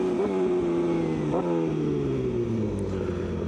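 A BMW S1000RR sport motorcycle accelerates hard while pulling a wheelie, its engine note climbing in a continuous rising whine up close, with no talk.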